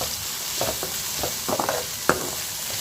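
Okra poriyal fries in a pan, cooked soft and no longer slimy. A steady sizzle runs underneath while a spoon scrapes and stirs in short bursts, with one sharper clink near the end.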